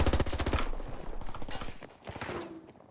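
Rapid gunfire in the shooter game Battlefield 2042, a dense burst of automatic shots at the start followed by scattered, looser volleys trailing off toward the end.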